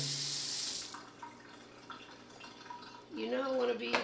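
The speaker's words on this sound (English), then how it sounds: "Let's rinse these blades off." Tap water runs and splashes while blender blades are rinsed in a kitchen sink, a steady close stream at the start that gives way to faint drips and handling, with a voice speaking near the end.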